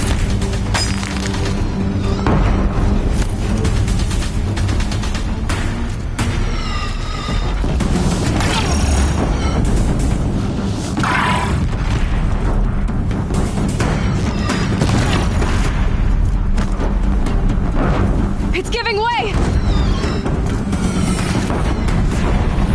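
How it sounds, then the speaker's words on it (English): Deathbringer war machines in Horizon Zero Dawn keep firing on a bridge, raising loud booms, crashes and shattering blasts over a constant, dense din of combat, with whining mechanical cries rising and falling between the explosions. "Deathbringers keep firing, this bridge will go!"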